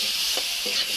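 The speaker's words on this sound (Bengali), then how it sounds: "করলাটা আমি আগে ভেজে নিই।" Bitter gourd sizzling steadily in a frying pan, with a couple of light stirring scrapes over the constant hiss.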